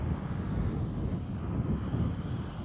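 An Xcalibur RC model jet flies overhead with a steady, moderately loud rushing engine roar that holds without a break.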